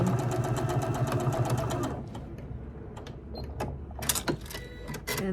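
A sewing machine runs steadily for about two seconds, stitching a quarter-inch seam on a quilt block, then stops, leaving light handling and fabric rustle with a few sharp clicks.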